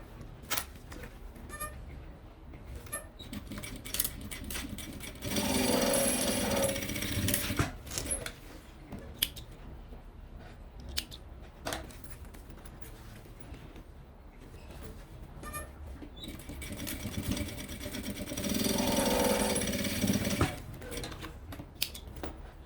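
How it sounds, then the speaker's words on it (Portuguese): A sewing machine stitches both sides of a Kipling-style fabric pouch, with two sustained bursts of steady, close mechanical whirring separated by quieter handling and shuffling. "Agora eu vou passar uma costura aqui nas duas laterais pra ficar fechado"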